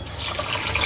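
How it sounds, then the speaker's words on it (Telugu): Water poured into a pan for making sugar syrup for Rakhi special laddu, a short steady splashing pour heard alone. "మనము 2 కప్స్ వాటర్ వేసుకోవాలి."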